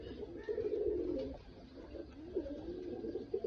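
A Chinese Teddy pigeon coos in low, throaty rolling phrases, two soft bursts with a brief pause between, fairly close and quiet against faint background noise.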